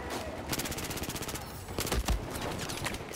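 Rapid bursts of FAMAS rifle fire from Battlefield 4 gameplay, quick regular shots in several volleys with a heavier impact near the middle, fairly close and steady in level.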